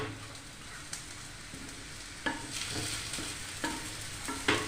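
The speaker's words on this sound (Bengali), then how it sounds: "এইভাবে আমি সবগুলো পরোটা ভেজে নেব" Paratha shallow-frying in a little oil in a pan, a steady soft sizzle with a few sharper crackles and light scrapes of a utensil, close and moderately quiet, no talk.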